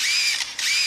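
A bird mimicking a camera shutter gives two bright, whirring mechanical buzzes, one before and one after a short gap, loud and close with no talking.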